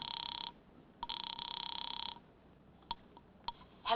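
A telephone rings in a phone booth in an old-time radio drama: two bursts of a loud electric bell ring, one short and one longer, then a few faint clicks.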